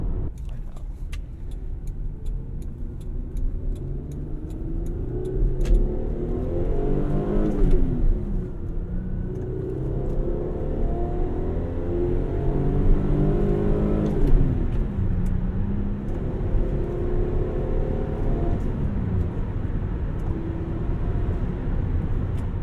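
A 2001 Toyota Camry V6 with a manual gearbox pulls steadily under acceleration, its engine drone rising and falling in pitch from inside the cabin while someone talks over it throughout.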